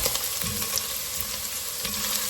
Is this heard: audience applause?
no